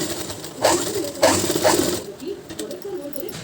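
A sewing machine stitches canvas in short whirring bursts that stop and start, close by, with a voice talking over it.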